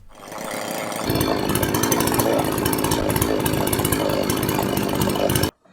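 A petrol chainsaw, rated at 111.9 dB, roars steadily at close range, its high buzzing engine holding a constant pitch for several seconds before cutting off abruptly.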